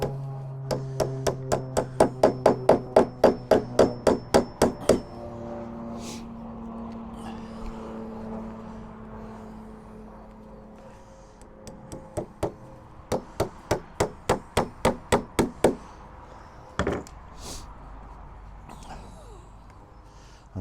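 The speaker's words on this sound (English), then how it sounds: "Just going to put one nail in each one of those." Hammer driving nails into a wooden 1/6 scale WW2 diorama bridge, two quick bursts of rhythmic sharp taps, about a dozen each, separated by a quieter pause with a few stray knocks.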